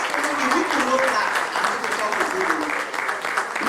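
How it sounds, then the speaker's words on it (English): Audience applause at an old students' association annual general meeting, a steady wash of clapping held for several seconds at moderate volume with voices murmuring underneath. "Can we get a rousing round of applause for him?"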